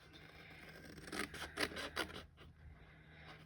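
Scissors snip away scored card bulk while a candle gift box is being made, a short run of soft crisp cuts and rustles, close and quiet, with no talking.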